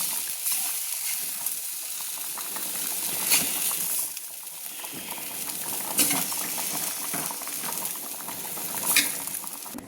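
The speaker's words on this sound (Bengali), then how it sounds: "কষানো মশলা আমি খিচুড়িতে তুলে দিচ্ছি" Spiced soybean masala scraped from a pan into a pot of vegetable khichuri with the heat switched off, giving a close, continuous wet patter and faint sizzle broken by a few sharper spoon knocks.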